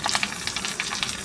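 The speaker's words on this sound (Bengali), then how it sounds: "দিয়ে চিকেনটা একটু ভাজা ভাজা হবে" Chicken pieces fry in a pan, a soft close sizzle with light irregular crackling bursts over a short stretch, with no voices.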